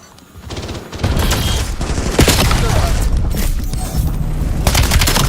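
In an online shooter game, a frag grenade is thrown and explodes amid a dense, loud barrage of gunfire and blasts that roars continuously after a brief quieter start.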